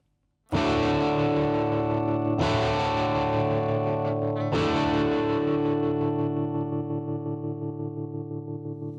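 Heavily distorted electric guitar chords, played through a Ferrograph Series 3 tape recorder used as an amp, ring out three times, each sustained with a shimmering, pulsing tremolo wobble that slowly fades.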